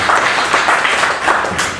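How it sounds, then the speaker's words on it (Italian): An audience claps at a press conference for Umberto Tozzi's 2017 tour, a dense, steady wash of applause filling the whole moment with no voices over it. "Un applauso, grazie."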